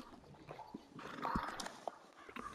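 Horses in the video game Red Dead Redemption 2 clip-clop and whinny at low volume, with scattered hoofbeats and a brief neigh against faint ambient background.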